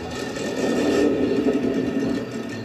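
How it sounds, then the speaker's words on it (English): A big block Chevy engine running: a steady, mid-loud rumbling drone with a faint whir, holding even and alone for a couple of seconds. "Oh, big block Chevy."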